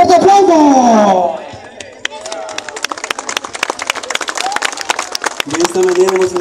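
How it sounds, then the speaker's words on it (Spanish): Audience applause and cheering at the end of a Christmas pastorela performance in Santiago Texacuangos, a crowd clapping steadily for several seconds after a presenter's amplified voice, with scattered shouts and a voice returning at the end. "De esta forma damos como finalizada la pastorela. ¡Fuerte aplauso!"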